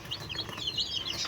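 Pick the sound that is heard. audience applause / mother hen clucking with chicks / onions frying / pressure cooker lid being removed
mother hen clucking with chicks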